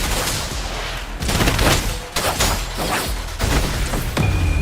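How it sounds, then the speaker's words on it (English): Rapid bursts of gunfire in the Wuthering Waves game, dense overlapping shots and booms in several loud clusters separated by brief gaps, with no voices. "let the bullets fly"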